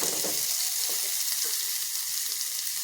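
Egg curry ingredients, ginger among them, frying in a little oil, a continuous close hiss and crackle with faint stirring knocks.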